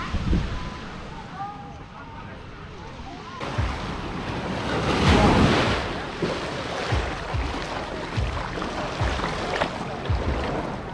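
Sea surf breaking on Paradise Beach in Phuket, a broad wash of waves with wind buffeting the microphone, swelling loudest midway, with faint voices and rumbling gusts through the steady roar.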